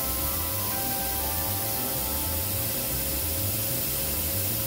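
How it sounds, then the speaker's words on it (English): An airbrush sprays Tamiya XF26 deep green paint onto a model battle cruiser nacelle, producing a continuous close hiss with a faint compressor hum beneath it. "I'm going to start airbrushing this onto the one nacelle here."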